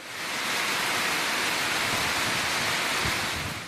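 Moderate rain falling steadily over the Gudalur area of the Nilgiris district, heard as a continuous, even wash of dense hiss with no gaps and no voices.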